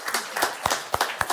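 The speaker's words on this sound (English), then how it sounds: "So let's clap for Randy really quick." Short, scattered clapping from a church congregation celebrating a newborn grandson named Randy, a handful of sharp claps spread unevenly over a brief moment.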